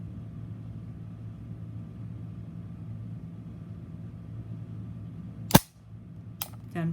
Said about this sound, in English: Let's try double action on the practice gun, no trigger job.